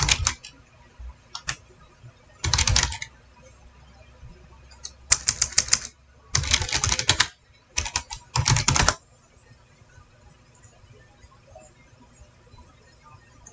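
Typing on a wireless keyboard built to resemble the IBM Model M, heard as several separate bursts of rapid, clattering keystrokes close by, with quiet pauses between the bursts and no talking.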